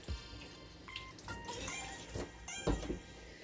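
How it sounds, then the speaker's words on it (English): Tap water running at a kitchen sink while hands are rinsed, faint splashing and dripping with irregular bursts close by. "Rinse my hands off."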